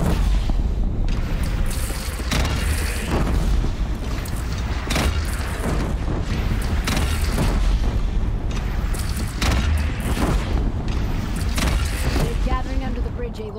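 In the video game Horizon Zero Dawn, a cannon fires among rolling explosions as booming blasts and rumbling debris pile up continuously, loud and dense, with voices and battle noise mixed underneath.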